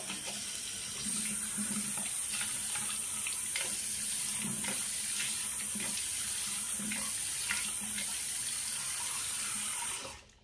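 A bathroom tap runs steadily into a sink for about ten seconds to wet the face before shaving, a close, even splashing hiss that stops abruptly at the end.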